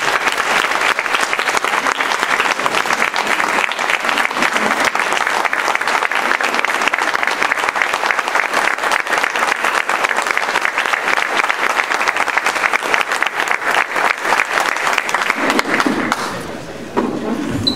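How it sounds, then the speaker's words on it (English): Loud, sustained applause from an audience at a quarterback club gathering welcoming a guest speaker, a dense steady roar of clapping that carries for most of the span before thinning out near the end. "So with that, I would ask that you would please welcome and give a big round of applause to Mr. Jim Hawthorne of Louisiana State Univ"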